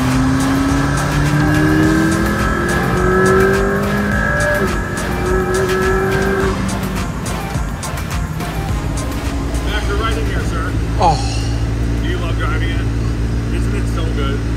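A car driven for the first time, engine pulling and accelerating with a steady drone and rising revs, close and loud, while excited voices talk over it throughout.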